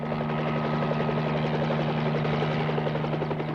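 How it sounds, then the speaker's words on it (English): A border patrol helicopter flying overhead, its steady rapid rotor chop and deep engine drone loud and constant throughout, with no voices. "Helicopters keep watch along the border."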